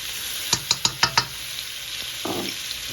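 Minced garlic sizzling in a pot, a quick run of five sharp taps against the pot over a low sizzle, then a short scrape.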